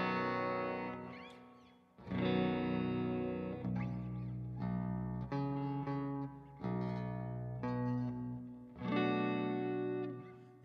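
Electric guitar with super hot pickups played through the STL Tones Emissary amp plugin, gain set for light breakup; loud strummed chords and ringing notes in several phrases, with no talking.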